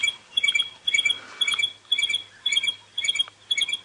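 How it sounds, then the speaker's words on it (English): Stierling's barred wren-warbler on a sunrise safari drive in Nkuhuma, giving a repeated high, bright chirping call in regular bursts about every half second, fairly close and clear over a low steady hum. "The Sterling's barred wren warbler. We hear them calling often."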